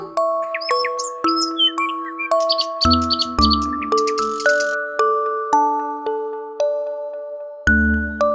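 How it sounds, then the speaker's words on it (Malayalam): Cartoon bird chirping rendered as a rapid series of bright musical tones and twittering chirps, accompanied by a cartoon score. The chirps are loud and close, with no talk over them. "കിളിയുടെ സൗണ്ട് അല്ലേ ആ കേൾക്കുന്നത്?"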